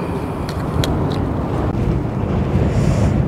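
Strong outdoor wind gusting steadily and loudly against the microphone, a constant roaring rumble with no talk, growing stronger over the short stretch.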